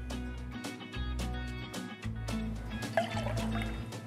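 Honey syrup poured into a Bee's Knees gin sour cocktail, a short close stream of liquid dribbling and trickling into a glass over about four seconds, with soft drips and no talking.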